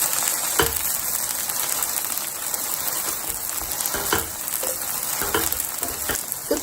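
Eggplant frying in a pan over high heat gives a steady close sizzle, broken by occasional sharp clicks and taps of a utensil against the pan.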